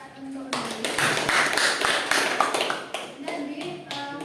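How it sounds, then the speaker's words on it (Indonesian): Classroom applause during a micro-teaching session, a burst of many hands clapping steadily for about two and a half seconds, with a voice speaking before and after. "Silakan beri tepuk tangan untuk Nabi."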